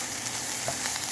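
Green and red peppers fry in a pan, giving a steady, even sizzle with faint stirring scrapes and no voices.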